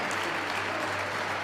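Steady applause from a tournament crowd at a professional squash quarterfinal match, a dense even wash of clapping held at moderate level throughout the short stretch.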